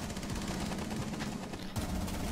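Gunfire from teammates in the console shooter Rainbow Six Siege, a dense, continuous crackle of rapid shots throughout, fairly distant and steady, with no talk over it.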